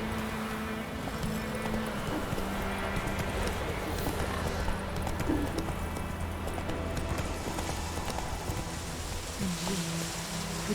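Roach the horse gallops steadily in The Witcher 3, a continuous, close drum of hoof clip-clops over a low rumbling bed of game ambience, with no talk.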